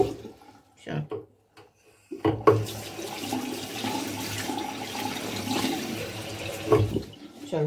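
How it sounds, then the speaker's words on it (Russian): Running water from a tap rinses soap foam off, a steady rushing splash that starts abruptly after brief quieter handling sounds and continues loudly before cutting off near the end. "Теперь убираю всю пену и смываю."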